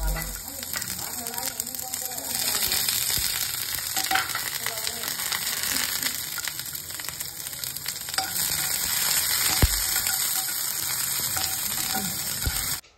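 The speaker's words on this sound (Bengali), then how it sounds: "একই তেলের মধ্যে আমি একটু ক্যাপসিকাম আর টমেটোটা হালকা শ্যালো ফ্রাই করে নেব" Capsicum and tomato shallow fry in oil left in the same pan, producing a loud, continuous close sizzle with occasional stirring and soft talking underneath.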